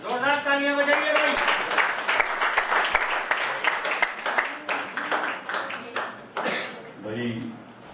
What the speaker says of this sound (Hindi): जोरदार तालियां बजाइए भाई